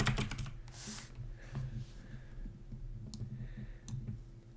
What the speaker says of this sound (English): tell me how loud is my keyboard